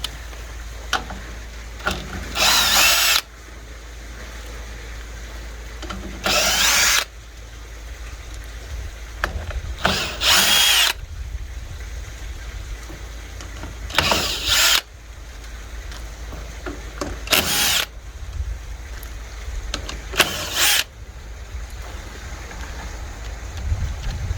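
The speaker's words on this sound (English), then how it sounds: "We're going to take these 6 screws out and we're going to install this piece inside." A power tool backs six screws out of the casing of a Firman Tri Fuel 7500-watt generator. It gives six separate loud whirring bursts, each lasting a second or two, with quieter pauses between them. No one speaks.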